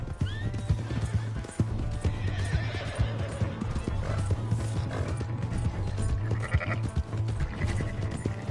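Horse whinnies and clip-clopping hooves in Red Dead Redemption 2, a steady close trot with a neigh early on, set against a constant low game hum.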